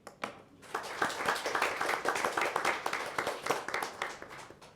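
Applause at an Eddy County Commission meeting: a short burst of hand clapping from a small group, fairly faint and steady, tapering off toward the end.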